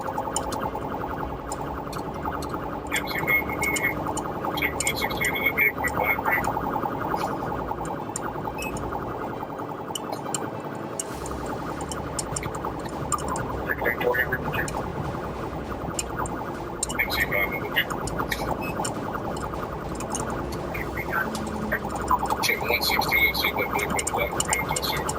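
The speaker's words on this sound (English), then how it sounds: "deputies attempted to block the vehicle and activated emergency lights and sirens" A police car siren wails continuously through the whole stretch during a pursuit, mixed with steady engine and road noise and faint radio chatter.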